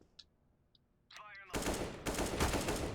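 Counter-Strike (CSGO) gunfire starts with a few faint clicks. Then comes a sudden loud burst of automatic fire that runs on as sustained rapid shots to the end.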